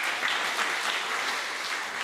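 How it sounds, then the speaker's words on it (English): Congregation clapping during a Sunday church service: steady, dense applause from many hands, moderately loud and even throughout, with no talk over it. "You can clap."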